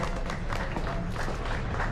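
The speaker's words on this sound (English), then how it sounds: "A round of applause for John." A crowd at a Ford Coupe Club of Australia gathering applauds a veteran racing driver, giving a dense, steady wash of clapping heard from within the audience.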